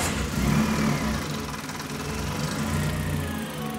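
A cheap Toyota Yaris engine idles right after being started, a close, steady, slightly rough mechanical rumble that runs without pause and with no speech.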